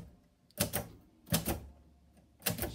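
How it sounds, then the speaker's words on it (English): Three quick clusters of typewriter keystrokes ring out close and crisp, each a short clattering burst separated by brief pauses. "I'm just going to quickly type this in"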